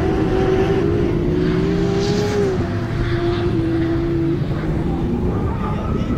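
A BMW E30 drift car with a 2JZ engine on the Croix-en-Ternois track at a Drift France round, its loud engine howling steadily with a strong wavering pitch as it rises and falls under the car's sliding.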